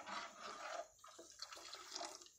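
Water poured into a pot while cooking urad dal payasam, a faint splashing trickle with gurgling bursts, close and quiet, with no talk.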